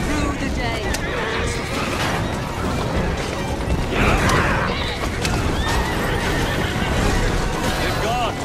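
Horses pulling carriages whinny and neigh amid a dense in-game street chase in Assassin's Creed Syndicate, with clattering hooves, crashes and rumbling wheels layered over a steady, loud wash of noise.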